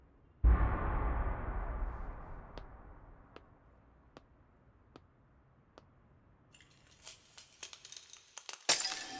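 Glass breaking in an anime episode: one sharp, loud crash and shatter, then a long fading ring with a few sparse tinkling fragments, and a later burst of clinking debris.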